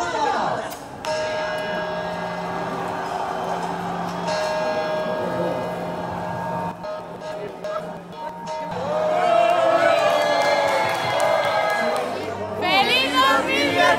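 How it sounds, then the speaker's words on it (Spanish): New Year's midnight bell chimes ring out as steady, sustained tolls over a background of crowd chatter, followed by a louder swell of cheering voices and noise near the end. "Y ahora las campanadas."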